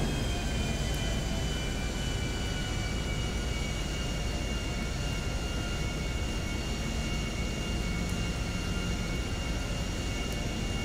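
A small plane in Grand Theft Auto 5 flies steadily, its engine drone and rushing air forming a loud, continuous roar with no break.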